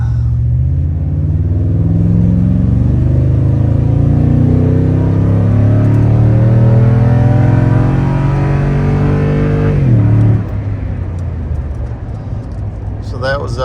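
Toyota Tundra TRD pickup with an airflow accelerator pulls hard from a driveway under full throttle, its engine roaring loud and steady as revs climb, then a brief dip near ten seconds as it shifts into second gear before pulling again.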